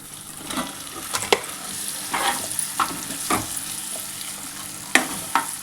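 Masala-stuffed bitter gourd pieces frying in a pan, a steady low sizzle with scattered spatula scrapes and knocks, close and moderately loud.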